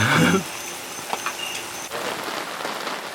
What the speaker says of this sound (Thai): ตอนนี้ฝนก็ ตกลงมา อย่างต่อเนื่อง